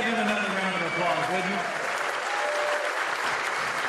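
Dense, sustained applause from a large audience at a political rally in Cincinnati, Ohio, steady and loud throughout with cheering mixed in.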